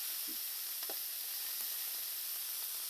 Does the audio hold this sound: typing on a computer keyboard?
no